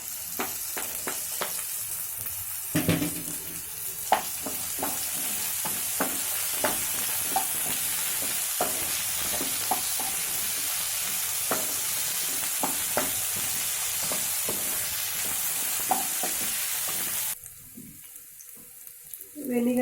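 Chillies, garlic, ginger and capsicum stir-fried in hot oil for babycorn Manchurian, a continuous loud sizzle broken by repeated scraping clicks of a spatula, cutting off abruptly near the end.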